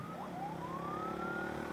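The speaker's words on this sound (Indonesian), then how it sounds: "Ada yang lagi penting ambulan." A distant ambulance siren wails in a slow rising tone over steady background traffic hum, with no talking.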